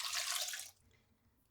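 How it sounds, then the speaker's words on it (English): Water and a small squirt of washing-up liquid poured into the bowl of a Magimix Cook Expert cooking food processor: a close, bright splashing pour lasting under a second, then near quiet with a faint knock at the end. "Tiny bit of washing up liquid and some water."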